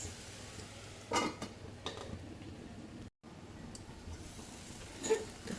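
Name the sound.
stirring spiced tindora (ivy gourd) sabzi in a pan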